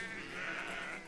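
A sheep bleats in Valiant Hearts: The Great War, a single short wavering cry, fairly faint and alone.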